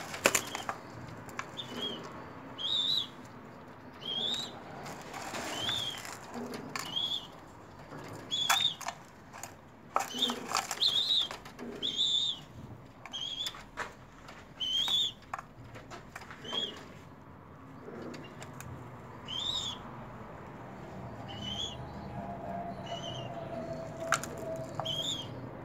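A baby pigeon being coaxed to feed gives repeated short high chirps at a steady pace, mixed with soft wing flaps and pecking patter, fairly close and quiet, with no talk.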